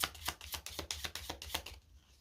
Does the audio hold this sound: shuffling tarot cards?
yes